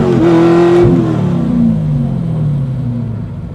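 A widebody C5 Corvette with an LS7 swap accelerates hard from about 25 mph, its loud, close V8 roar climbing in pitch and then falling as it shifts, with no talk.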